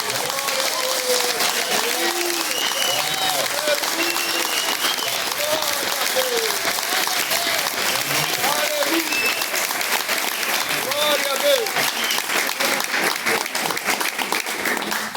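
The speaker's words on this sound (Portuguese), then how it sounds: "Você pode aplaudir." A church congregation at an Evangelical Pentecostal gathering in Jardim Débora, Brazil, applauds steadily and loudly, with voices calling out and cheering over the sustained clapping.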